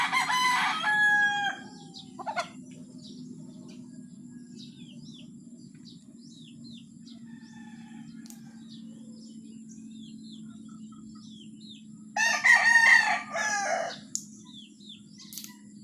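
Chickens on a Philippine backyard farm cluck softly and steadily while a rooster crows loudly near the start and again toward the end, with a low steady hum underneath.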